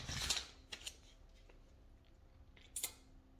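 Scissors snipping through quilt fabric squares, cut diagonally from corner to corner: a few crisp, close snips near the start, then quiet, and a second short burst of snips near the end.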